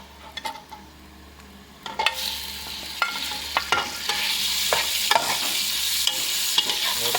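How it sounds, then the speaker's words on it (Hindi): Chicken stir-fried in a pan for chow mein, with a steady sizzle that grows louder and sharp clacks of a utensil stirring and scraping at irregular intervals. "अभी इसके अंदर हम चिकन ऐड करेंगे।"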